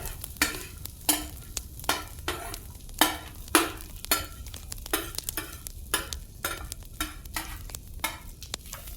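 Corn being stirred slowly in melted butter in a pan for a cheese corn snack: regular scraping strokes of a spoon against the pan about once a second over a gentle sizzle, close, with no talk.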